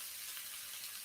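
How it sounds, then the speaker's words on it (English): Kapitan chicken curry frying in a pan, a steady hissing sizzle, soft and continuous with no voices. "that sizzling sound makes me hungry"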